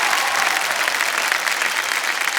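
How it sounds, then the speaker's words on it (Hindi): Studio audience on the Kaun Banega Crorepati quiz show breaks into loud, dense, continuous applause welcoming a contestant, close and even throughout with no speech. "तालियों के साथ इनका स्वागत किया जाए।"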